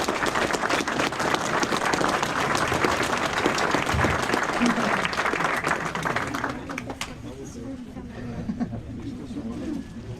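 An audience at a motorcycle riders' prize ceremony applauds loudly in sustained clapping. The applause fades after about six seconds, and a few voices and murmurs carry on afterward.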